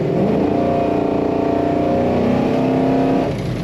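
A 1968 Dodge Charger restomod accelerating hard under steady throttle, its engine droning loud and close with a smoothly climbing note that cuts off sharply near the end.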